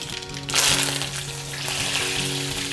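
Mustard seeds, urad dal and curry leaves sizzle loudly in hot oil, a dense crackling frying sound that swells sharply at the added leaves and keeps bubbling steadily, with a low hum beneath and no talk.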